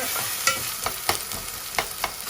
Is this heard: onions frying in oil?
yes